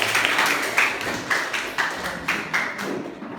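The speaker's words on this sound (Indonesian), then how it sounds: "Tepuk tangan buat kita semua." A class of students claps their hands together in a series of sharp, evenly spaced group claps, each one crisp and fairly close, with no talk over them.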